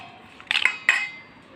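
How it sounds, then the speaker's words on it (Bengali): Chicken being mixed by hand with spices, garlic paste, cumin and coriander in a bowl: a few light clinks and scrapes against the bowl in two quick bursts, close, in an otherwise quiet kitchen. "তো আমি সবগুলো উপকরণ একসঙ্গে আমি মেখে নেব।"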